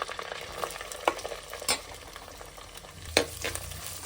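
Chopped onions sizzle in a hot pan under a steady hiss, with a few sharp clicks and scrapes of stirring, close by.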